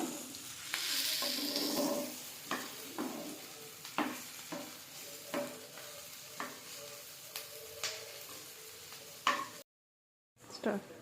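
Ginger-garlic paste frying in a pan for a pumpkin fry, sizzling under repeated scrapes and stirs of a spoon against the pan, fairly quiet and close, with a brief silent gap near the end.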